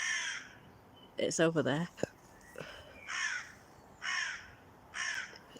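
A crow gives several loud, harsh caws in a spaced series, close by, while a person speaks briefly in between.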